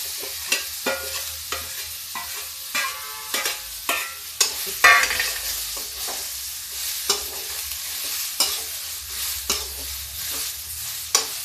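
Cumin, fennel seeds and bay leaf roasting in a pan, with a soft steady sizzle under repeated clinks and scrapes of a spoon stirring, close up and without talk.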